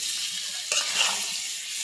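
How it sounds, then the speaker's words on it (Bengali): Jackfruit pieces sauté in a hot pan for a curry, hissing steadily while a spatula stirs and scrapes in a couple of brief bursts, close and clear with no speech. "এখন কাঁঠালগুলো দিয়ে ভালো করে কষাই নেব।"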